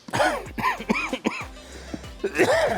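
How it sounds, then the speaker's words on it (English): A person coughs several times in quick, harsh bursts after eating ghost pepper caramel corn, close by, with throaty rasps between the coughs. "just came out of this thing and I'm already coughing"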